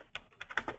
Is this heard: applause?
no